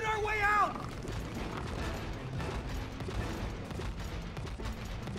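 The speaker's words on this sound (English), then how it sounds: "Stop talking, Cody, and start shooting" Gunfire in the co-op video game It Takes Two, a dense, continuous rattle of rapid mechanical shots with creaking and clanking, mixed with a brief wavering voice at the start.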